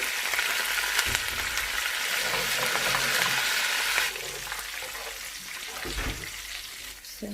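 Steady, loud sizzling of spices and curry leaves tempering in hot oil for kadhi, a constant crackling hiss close up with occasional stirring clatter.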